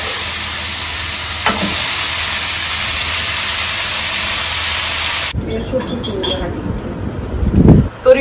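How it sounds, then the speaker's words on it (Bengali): Bitter gourd frying in a pan for a home-cooked fry, a continuous hiss and sizzle that runs steadily, then drops lower and rougher with stirring scrapes and a short louder burst near the end. "আব্বুর জন্য করলা ভাজি বানানো হচ্ছে"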